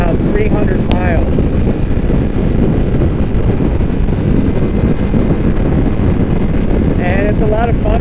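Honda Hondamatic motorcycle cruising on a highway, with a steady, loud rush of wind buffeting the microphone throughout and brief faint voice fragments.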